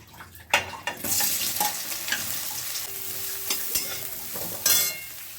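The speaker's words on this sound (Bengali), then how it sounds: "এবার সোয়াবিনগুলোকে ভেজে নেব।" Soaked soybean chunks hit hot oil in a kadai and burst into a loud, crackling sizzle, with sharp pops and spatula scrapes up close as they are stirred, and no voices.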